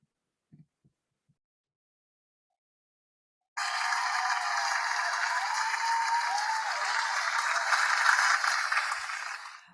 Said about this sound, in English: you need to get your round of applause